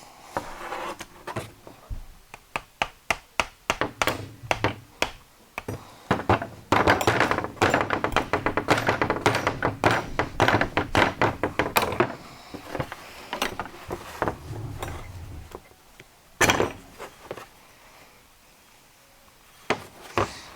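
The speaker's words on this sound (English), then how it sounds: "I've got a socket here that I can use to drive it into the housing" A bearing being hammered into its housing on a junkyard bandsaw, driven with a socket: a long run of sharp, rapid metallic-wooden knocks that come in dense bursts, then a few louder isolated strikes near the end, close and fairly loud.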